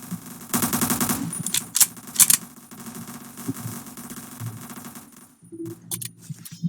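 Rapid automatic gunfire in a multiplayer shooter video game, loud bursts of rattling shots with a couple of sharp louder reports, continuing in shorter bursts against game background noise.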